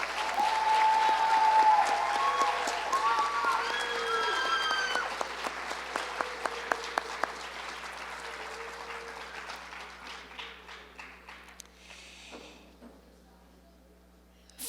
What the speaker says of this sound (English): Let's have one more big round of applause for all of our honorees this evening.